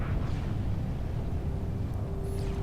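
Explosions in the Star Trek Online video game form a continuous deep rumbling roar with a faint tonal hum and a brief high whistle, loud and unbroken throughout.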